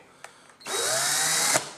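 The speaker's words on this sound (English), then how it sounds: "so the drill is going this way" A power drill whirs up and spins steadily at high speed for about a second, then stops abruptly, close by with no talking.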